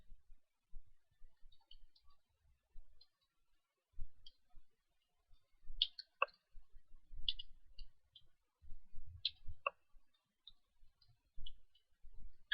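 Keys tapped on a computer keyboard to enter numbers into a running program, scattered soft clicks spread irregularly at moderate distance, faint and sparse with quiet gaps between presses.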